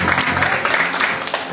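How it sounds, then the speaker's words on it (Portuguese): Steady, dense applause from a congregation during a church service, continuous and fairly loud throughout the short stretch, with a crowd-like wash of many hands clapping together. "Aplauda o Senhor."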